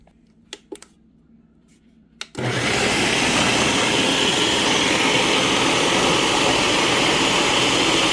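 A food processor chops washed cilantro with its stems. After a few light clicks and bumps it starts up into a loud, steady roaring whir that holds to the end, with no talking.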